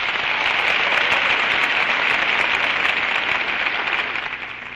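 Studio audience applause on a 1937 Chesterfield Christmas radio show, a dense, even burst of clapping that holds steady for several seconds before starting to fade.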